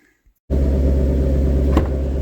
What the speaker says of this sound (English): I got the car running, so it's a little loud here.